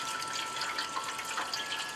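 Washed garden greens are swished through a basin of water, giving a soft, close sloshing and trickling for a couple of seconds.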